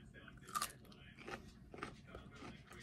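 A single crisp bite into crunchy homemade pickled cauliflower, then a few soft, quiet chewing crunches, faint and close-up.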